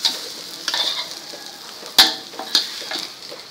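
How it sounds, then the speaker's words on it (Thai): An omelette fries in a pan with almost no oil, giving a soft crackling sizzle broken by sharp clicks and scrapes of a utensil against the pan, close and with no talking. "ทอดตัวแทบจะไม่มีน้ำมันครับ"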